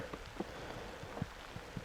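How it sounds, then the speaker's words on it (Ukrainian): Scattered raindrops patter faintly on leaves and surfaces in a forest, a few louder drips standing out against a soft, steady outdoor hiss. "такий дощ нормальний."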